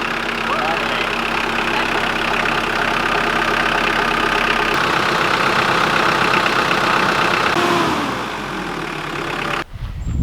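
A Mitsubishi Pajero engine runs at a loud, close idle, its rumble steady before dropping away near the end, while a voice speaks over it.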